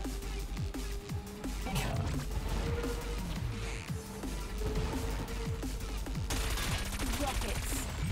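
Rockets fire in the futuristic racing game Wipeout Omega Collection, a rapid run of sharp bursts over a steady engine drone and music, repeating through the clip.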